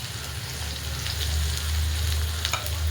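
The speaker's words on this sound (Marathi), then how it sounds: "थोडासा तेलामध्ये फ्राय करायचा आहे कांदा." Finely chopped onion fries in oil already holding cumin and mustard seeds for masala pav, giving a close, loud, steady sizzle with a few pops over a low hum.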